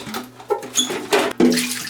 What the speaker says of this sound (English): Next thing we want to do is just empty our reservoir out.